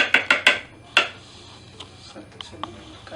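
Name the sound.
stirring colored dough in a bowl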